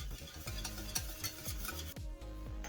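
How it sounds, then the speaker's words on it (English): Béchamel sauce of milk being whisked in a pan, a fast rhythmic scraping and swishing of the whisk against the metal, steady and close with a soft simmering sizzle beneath. "So now we just have to whisk it regularly to get it to the consistency that we need."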